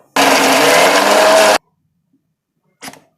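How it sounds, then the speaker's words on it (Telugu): A kitchen mixer grinder blends ginger, garlic, salt and turmeric into a paste, a loud, close whirring burst lasting about a second and a half that stops abruptly, followed by a brief faint clatter. "అల్లం, వెల్లుల్లిపాయ, సాల్టు, పసుపు ఇవి వేసుకుని మెత్తగా మిక్సీ పట్టి మళ్ళీ మీకు చూపిస్తా"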